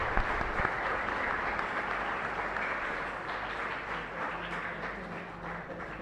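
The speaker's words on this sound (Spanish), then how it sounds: "Se merece un fuerte aplauso al Padre Víctor." Congregation applauding inside a chapel during a Catholic Mass, a steady dense wash of clapping that fills the room for several seconds and eases slightly toward the end.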